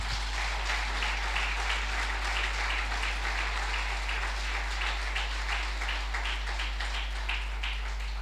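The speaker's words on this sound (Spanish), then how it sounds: "Dale un aplauso a Jesús." A church congregation applauding during a service, a steady sustained patter of many hands clapping heard from some distance at a modest level, with no voices over it.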